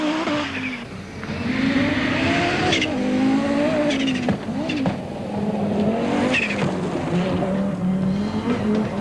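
Rally cars from the 1987 Nissan International Rally tear past at high speed, engines revving and rising and falling in pitch, with tyre noise and several loud passes in a row.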